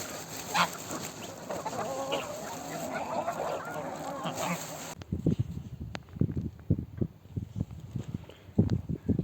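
Geese and chickens kept together on a farm, clucking and honking in a busy mix, then sharper separate calls close by, with some talk in between.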